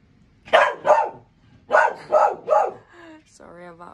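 A dog barks five times close by in two quick bursts, followed by a soft whine.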